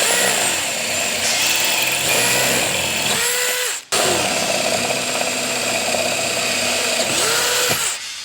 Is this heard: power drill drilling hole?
yes